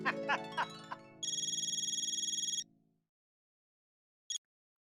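A telephone's ringback tone warbles steadily for over a second during an outgoing call on a Hindi sitcom set, following a few clipped sounds, then silence and one short final beep.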